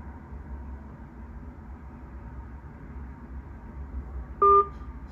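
Quiet telephone line hiss and hum carries on under the call, then a single short, loud two-tone dialing beep sounds near the end.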